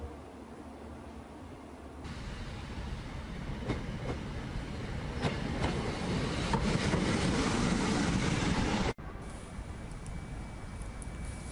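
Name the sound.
train ride, rail carriage clickety-clack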